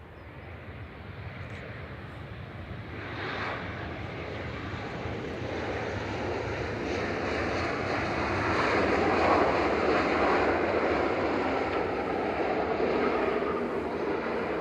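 A Ryanair airliner from Milan passes at Manchester Airport, its broad jet roar building gradually over the clip and peaking near the middle to end, steady and fairly distant with a light wind rush.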